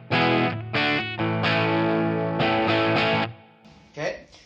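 A guitar through an amp pushed into light breakup by a clean Micro Amp volume boost, run with a POD HD500X, plays sustained chords loud and close, ringing out with a gritty edge before a short quieter phrase at the end.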